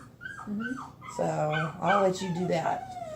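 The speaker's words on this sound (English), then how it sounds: "if you hear any dogs wincing, whining in the background, I'm dog sitting" A dog whimpering and yipping in high, wavering whines close by, mixed with a person speaking briefly over it.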